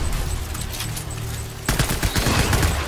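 Gunfire bursts out in the video game Death Stranding as a rapid, loud volley that starts partway through and continues over the game's ambient background.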